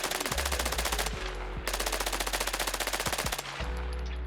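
A Vector SMG fitted with an Osprey suppressor and a 50-round magazine fires in the modded video game Arma Reforger: two long, rapid full-auto bursts, with a third starting at the end, loud and close.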